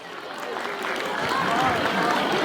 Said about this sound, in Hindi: एक बार सर के लिए जोरदार तालियां हो जाए बच्चों।